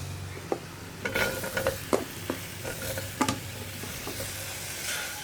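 Spice powders with potato and tomato are stirred in a pan for a Kerala potato curry, a soft sizzle under repeated scraping spoon strokes and clinks, close and moderate, no talk.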